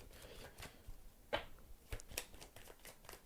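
Tarot cards riffle and slap softly in quick bursts, close and quiet, with a few sharper snaps along the way.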